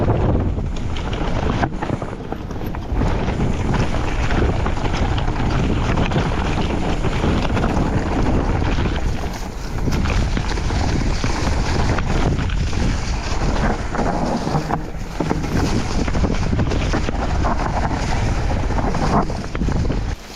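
Strong wind buffets the microphone during an enduro mountain bike ride on an Atherton Enduro AM 150, a loud continuous roar and rumble with gusting surges throughout and no talk.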